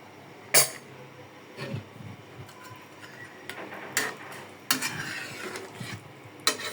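Shing catfish dropped into a pot of curry with green banana, papaya and a small potato, then stirred: a few sharp clinks and scrapes of a spoon against the pot over a low background hiss, with quiet gaps between them.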